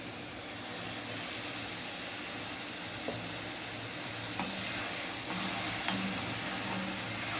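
Onion masala sautés in oil in a pan, giving a steady, soft sizzling hiss close by with a few faint clicks of stirring and no talk.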